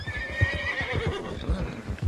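Horse in the video game Red Dead Redemption 2 gives a close, clear whinny with a wavering high pitch over soft, irregular hoof thumps, with no talk.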